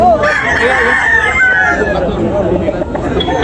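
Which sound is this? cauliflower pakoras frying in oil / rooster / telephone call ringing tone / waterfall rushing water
rooster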